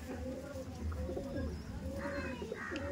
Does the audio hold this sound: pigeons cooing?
yes